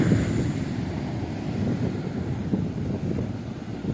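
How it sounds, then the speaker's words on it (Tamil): Sea waves surge onto a rough beach in Kanyakumari, a steady broadband wash of surf mixed with gusty wind buffeting the microphone, fairly faint and continuous. "உங்களுக்கு தெரியுதா அலை எவ்வளோ இதாக அடிக்குது?"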